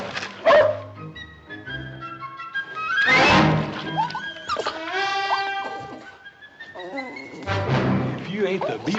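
A dog yips, whimpers and barks in short bursts while being caught for a bath, mixed with a thump and voices.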